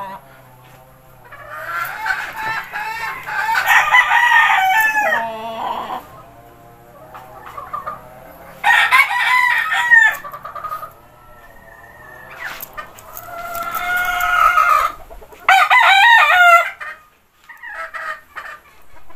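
A McLean Hatch gamefowl rooster crows in three or four loud, harmonic bursts spread through the stretch, with someone talking between and around the calls.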